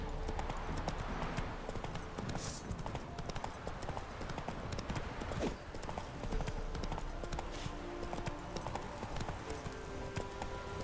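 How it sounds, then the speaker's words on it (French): A horse in The Witcher 3 gallops with steady, rapid hoofbeats, loud and continuous throughout, with no pause in the rhythm. "Au galop, Ablette."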